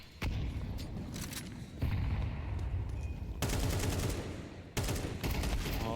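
Rapid, loud Desert Eagle pistol shots from a Counter-Strike match at the IEM Cologne Major, Spirit vs. NAVI, with sharp gunfire bursts and booms repeating in close succession throughout.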